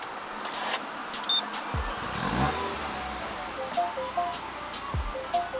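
A MINI John Cooper Works F56 with a modified valved exhaust starts up, a brief starter whir and catch followed by a low rumbling idle heard from inside the cabin, with a small blip later.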